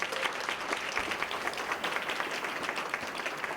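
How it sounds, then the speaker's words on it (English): Applause from the audience at a ribbon-cutting ceremony, steady and dense for a few seconds, the crowd clapping continuously with no voices over it. "Let's give him a round of applause"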